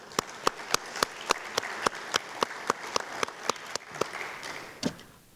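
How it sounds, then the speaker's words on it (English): A graduation ceremony for a fire science academy, with the audience clapping in a steady, evenly spaced rhythm; individual claps stand out sharply over a soft background wash for several seconds. "Clap it up for that"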